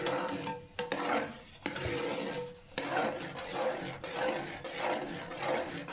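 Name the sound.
stirring jackfruit mixture (chakka varattiyathu) in a pan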